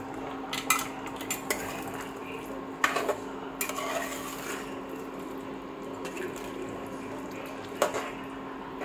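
Roasted coconut is stirred into mutton curry in a metal pot, giving scattered spoon clinks and scrapes against the pot with soft wet stirring in between, fairly quiet and close.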